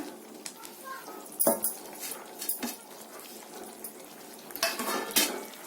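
A spoon stirs mixed spice masala into a simmering spicy chicken gravy in a pan, with scattered metallic clinks and scrapes in irregular bursts over a faint background sizzle.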